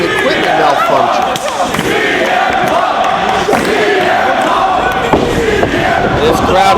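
Wrestling crowd in Chicago roaring steadily throughout, a dense wall of cheering and chanting with occasional thuds from the ring cutting through, loud and continuous.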